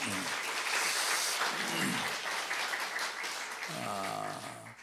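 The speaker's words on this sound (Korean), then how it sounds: "우리 수고한 칸타타 하신 분들에게 박수 한번 쳐드릴까요?" A church congregation applauds the cantata performers with steady, fairly soft clapping, low voices murmuring beneath it throughout.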